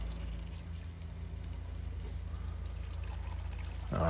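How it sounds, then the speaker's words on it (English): Water poured from about a cup into simmering taco ground meat in a pan in an RV kitchen, a short burst of pouring and splashing at the very end over steady low sizzling. "we're going to add about a cup of water"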